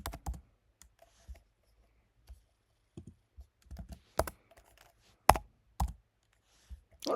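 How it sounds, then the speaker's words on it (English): Scattered keystrokes on a computer keyboard while text is written, sounding as irregular bursts of clicks with gaps of silence between them, fairly close and clear with no voices. "Let's say I'm typing and I just did not finish writing."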